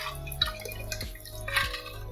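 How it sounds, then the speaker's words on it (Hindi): Water poured into dal in a cooking pot, heard as a few distinct splashes and drips over a low steady hum in a quiet kitchen. "हम इसमें पानी डाल देंगे।"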